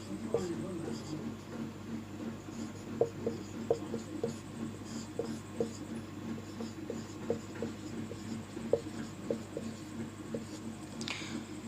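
Pen or chalk writing out notes for a dice reasoning lesson makes steady scratchy strokes with regular tapping dots, close and fairly quiet over a low room hum.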